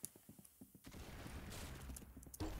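Rapid gunfire from the Roblox game Arsenal, with a string of close sharp shots and short bursts layered over dense game noise and effects.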